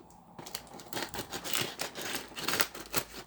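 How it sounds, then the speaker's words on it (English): Scissors cut into a sealed cardboard parcel from eBay holding a mini Sindy doll, making a run of close, uneven snips, scrapes and crinkles of tape and card with no talk. "So let's get these scissors onto it."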